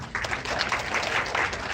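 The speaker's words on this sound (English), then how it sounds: "Give him a big round of applause." Seminar audience applauding at an Indian agriculture event in Hyderabad, a steady dense wash of clapping lasting under two seconds with no talk over it.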